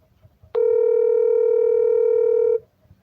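A steady telephone tone sounds while a number is being dialled, one continuous electronic note with harmonics lasting about two seconds, clear and alone over a quiet background.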